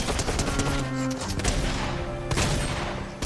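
Rapid gunfire in a Fortnite Creative battle royale as a boss is taken down, a dense, steady burst of shots running continuously at close range with a sharp break partway through.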